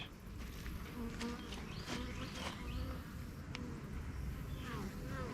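Bees fly into a beehive with a screened bottom board, carrying pollen through its small entrance hole. A dense, continuous buzzing swarms near the hive, with a faint voice low in the background.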